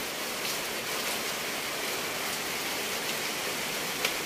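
Storm rain falls steadily all day, a soft, even hiss of drops on surfaces with occasional sharper nearby drips, faint and continuous with no voices.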